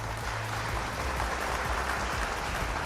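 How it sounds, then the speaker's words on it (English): An audience at a business conference claps in steady, sustained applause with no talking over it. "A round of applause, please, for Yusek Lantayona."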